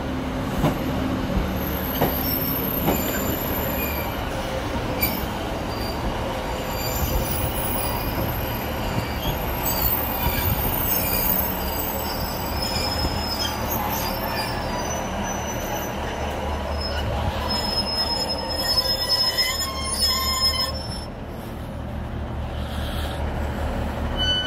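Class 156 diesel multiple unit 156493 at Fort William station gives off a loud, sustained metallic wheel squeal over steady rumbling rail noise, continuous throughout with no speech.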